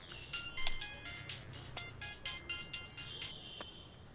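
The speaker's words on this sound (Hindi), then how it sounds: "किसका फोन है?" A phone ringtone plays quietly as a repeating electronic melody over a low background hum, continuing steadily for a few seconds.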